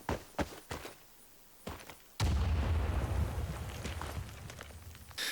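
A grenade explosion in the Rising Storm 2: Vietnam video game lands as a sudden loud boom, followed by a sustained low rumble and debris noise, with scattered sharp impacts before it.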